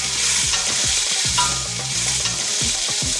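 Prawns sizzle loudly in hot coconut oil alongside curry leaves, onions and garlic, a continuous frying hiss broken by several stirring scrapes and knocks in the pan.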